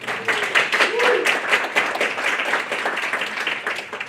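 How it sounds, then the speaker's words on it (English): Members of a student government senate clap to welcome newly appointed officers. The applause is moderately loud and scattered, with individual hand claps standing out, and it thins gradually while a brief voice cuts through near the start. "If I could get a round of applause."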